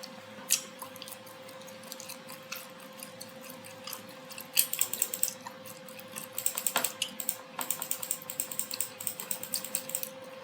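Keys clatter on a computer keyboard as a drafting command is typed in CAD software, a quiet irregular run of clicks that thickens into faster bursts in the second half over a steady low hum.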